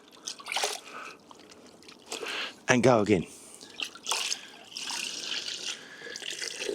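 A car wash mitt is dunked and rinsed in a bucket of water, giving splashy sloshes and trickling drips between bursts, while a person talks over it.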